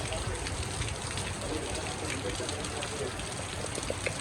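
Heavy, continuous rain pours down with a dense, steady hiss and scattered drops striking surfaces nearby, unbroken for the whole stretch.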